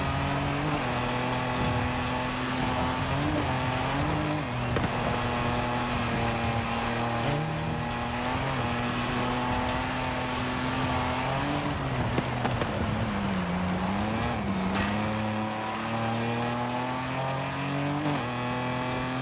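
A Datsun rally car in Forza Horizon 5 drones along at high revs, its engine note rising and dipping with gear changes, loud and continuous throughout.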